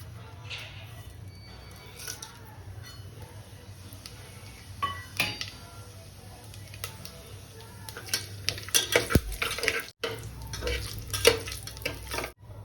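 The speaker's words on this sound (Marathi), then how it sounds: "आता हे तेल आणि तूप छान गरम झालेलं आहे हे सर्व खडे मसाले आपण परतून घेऊयात" Whole spices sizzle in hot oil and ghee for a pressure-cooker chicken curry, with a steady fry hiss under repeated metal scrapes and clinks of a spoon against the pot that grow busier toward the end.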